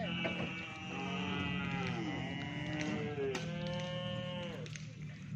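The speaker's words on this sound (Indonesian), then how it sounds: "Dan sapi-sapi yang kecil-kecil." Cattle, including small ones, moo repeatedly, long drawn-out lowing calls overlapping one another, with a steady low rumble of background noise throughout.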